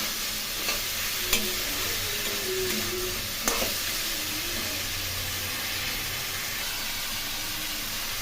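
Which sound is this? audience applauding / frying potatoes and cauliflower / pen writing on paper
frying potatoes and cauliflower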